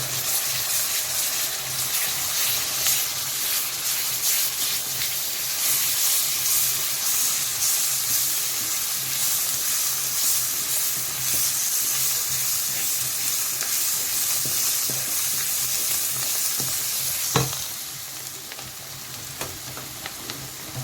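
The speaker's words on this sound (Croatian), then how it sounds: "paradajz pire ide direkt u zapušku" Tomato puree sizzles steadily as it fries in a roux for a military bean stew, with a constant close crackle and one sharp clink near the end.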